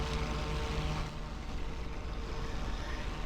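WWII P-40 fighter plane propeller engine in IL-2 Sturmovik 1946, a dense, steady roaring drone close up, loud and continuous.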